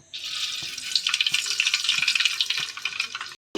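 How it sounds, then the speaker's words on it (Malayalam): Coconut oil is poured into a heated uruli for cooking a tapioca dish, giving a steady, close hissing pour for about three seconds before stopping abruptly. "നമുക്ക് വെളിച്ചെണ്ണ ഒഴിക്കാം."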